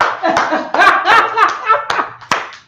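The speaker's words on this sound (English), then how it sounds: "we got to clap it up for him" A small group at a Feast of Booths gathering claps for a priest and officer, a few sharp claps mixed with loud laughter and lively voices close by.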